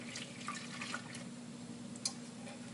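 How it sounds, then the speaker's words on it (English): Milk pours in a soft, quiet trickle into a bowl of pudding mix, with a faint steady hum in the background and no talk. "We're just going to pour in our milk."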